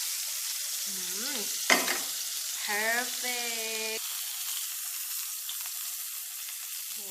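Loud, steady sizzle of steak frying in a hot pan, with a clatter near the start and a voice briefly speaking over it.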